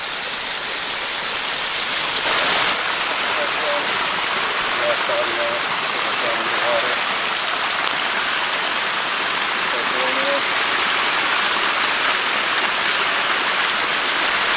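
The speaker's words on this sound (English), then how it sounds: "There's a lot of water coming out of there." Abandoned mine drainage water pours and splashes steadily from an outflow in a continuous rushing flow, close by, with faint bird chirps briefly audible over it.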